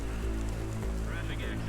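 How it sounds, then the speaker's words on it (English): Steady rain hisses across a neon city in the video game Cloudpunk, a constant wash with a low drone beneath it and a faint higher whine toward the end. "Just never fucking stops raining."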